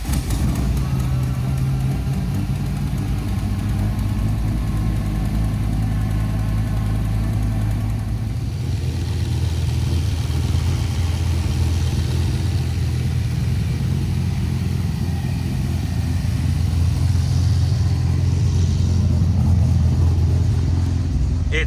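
An engine-swapped Nissan 240SX runs steadily after new exhaust work, a deep, even idle rumble that holds close and continuous from start to finish with no talking over it.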